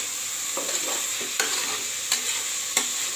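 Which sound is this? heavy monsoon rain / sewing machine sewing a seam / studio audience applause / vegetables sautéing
vegetables sautéing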